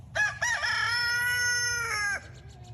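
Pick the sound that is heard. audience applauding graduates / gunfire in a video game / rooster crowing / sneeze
rooster crowing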